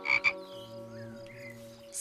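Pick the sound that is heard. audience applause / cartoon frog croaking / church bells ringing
cartoon frog croaking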